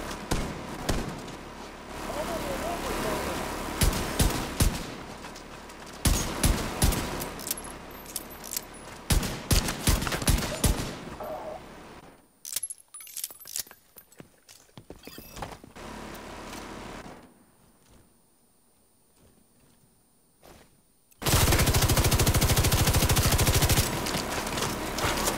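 Bursts of rapid gunfire and sustained minigun fire in Division 2, loud rattling volleys broken by pauses, a quiet stretch of scattered shots, then a dense continuous roar of fire at the end.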